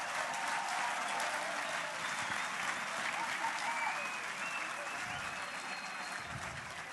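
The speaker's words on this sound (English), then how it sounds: "give yourselves a round of applause" An audience at a Formula Student awards ceremony applauds, a broad, even wash of clapping heard from some distance, fairly quiet and unbroken for the whole stretch.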